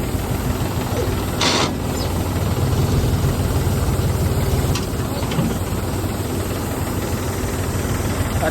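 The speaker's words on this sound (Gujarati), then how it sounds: "તમે જોઈ શકો છો માલિક પોતે અત્યારે હાર્વેસ્ટર ચલાવે છે." A combine harvester engine drones steadily at close range, a loud, continuous low rumble with a constant vibrating hum and no break throughout.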